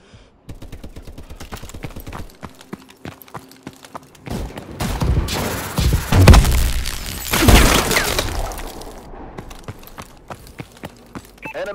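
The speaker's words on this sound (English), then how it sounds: "Enemy missile strikes incoming." Enemy missile strikes explode in Call of Duty: Advanced Warfare, with a loud cluster of blasts and crashing debris through the middle of the clip. Scattered sharp gunfire cracks come before and after.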